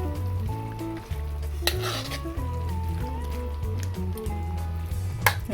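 Sardines and chayote sauté in a pan while being stirred, giving a steady sizzle with scraping utensil clicks against the pan and some low background music.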